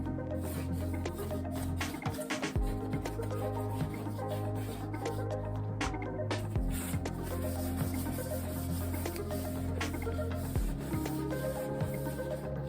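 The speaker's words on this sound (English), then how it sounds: "So I need to make sure I'm wiping this a little quicker." Paper towels wiping paint off Captain Rex costume armor, irregular close rubbing and scrubbing strokes with crinkly paper rustle and brief pauses, no voices.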